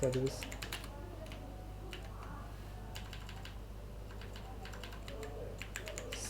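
Typing a kubectl command on a computer keyboard: quiet, quick clusters of key clicks with short pauses, faint and close, over a steady low hum with brief soft talk.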